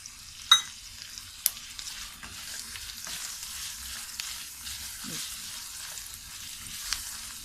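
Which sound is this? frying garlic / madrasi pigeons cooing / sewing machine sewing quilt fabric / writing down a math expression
frying garlic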